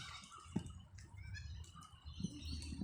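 Birds chirping and tweeting outdoors in a park in Sydney, scattered calls at moderate distance over a soft ambient background.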